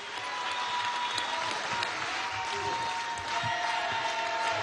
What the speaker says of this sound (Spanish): Un aplauso a la dirección política de La Guaira, del estado La Guaira.